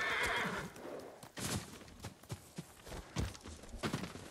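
In the video game Ghost of Tsushima, a horse whinnies at the start, then its hooves clip-clop in an uneven walking rhythm, close and fairly quiet.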